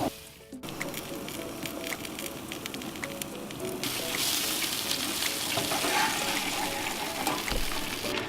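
A cheese-topped burger sears on a Beefer high-heat grill, giving a steady close hiss and crackle of frying that thickens and grows louder partway through.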